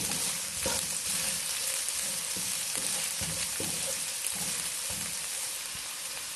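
Vegetables for chicken chow mein stir-frying on a high flame, a dense, steady sizzle with occasional tossing and scraping clicks, close and continuous with no talk.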